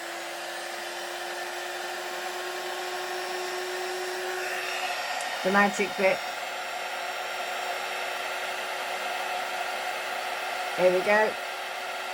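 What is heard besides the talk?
heat embossing tool blowing hot air on embossing powder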